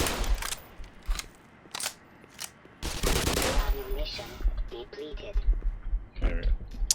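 Bursts of assault rifle fire in the shooter Black Mesa, several short rapid volleys separated by gaps, loud and close, with someone talking between and over the shots.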